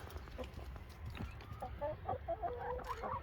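Pet hens, older birds kept alongside honeybee colonies in late winter, cluck in a run of soft, irregular calls that grow busier and louder toward the end, heard nearby with quiet yard background.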